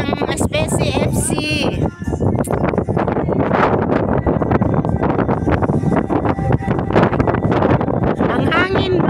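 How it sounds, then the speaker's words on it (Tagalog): Wind buffets an outdoor microphone near the sea in Doha, Qatar, as gusty rumbling bursts cover the whole stretch, with someone talking over it. "Ang hangin, bro."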